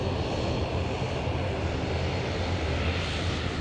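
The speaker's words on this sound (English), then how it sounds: "The first heavy arrival of the morning, the Singapore 221 A350 service from" Singapore Airlines flight 221, an Airbus A350 jet, arriving at Sydney Airport on a morning rush, its engines a steady, loud, broadband roar that holds throughout with no voices.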